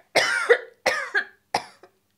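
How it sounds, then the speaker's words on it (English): Three harsh, heavy coughing fits from one person close by, each a raspy burst trailing off with a smaller second catch, separated by brief pauses of silence. "coughing just like that"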